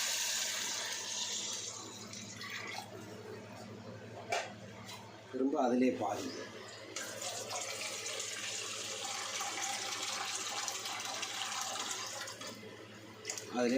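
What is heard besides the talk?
water being poured into a pot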